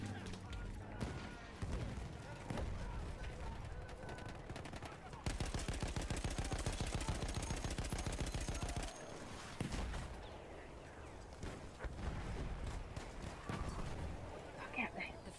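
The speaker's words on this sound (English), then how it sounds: "He's shooting from in front." Video game gunfire crackles in rapid automatic bursts, densest and loudest through the middle stretch, with a voice talking around the shooting.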